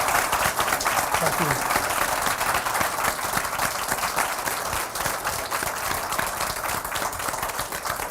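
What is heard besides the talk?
audience applause for guest speaker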